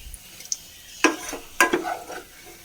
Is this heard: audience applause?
no